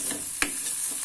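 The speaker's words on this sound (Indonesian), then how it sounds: "Tumis sampai layu dan harum baunya" Dried shrimp and tongcai sizzle and hiss as they are stir-fried in a pan for bakmoy, with a sharp scrape of the spatula midway, loud and close with no voices.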